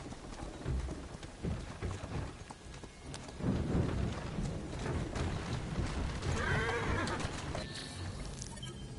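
A horse whinnies midway over a rumbling, stormy ambience with rain in the video game Assassin's Creed Syndicate, with hoof sounds earlier in the clip.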